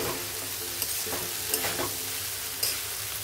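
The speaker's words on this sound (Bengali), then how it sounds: "ভালো করে নাড়াচাড়া করব" Noodles stirred in a hot pan give a continuous close sizzle, with a few sharp scraping knocks of the utensil against the pan breaking through.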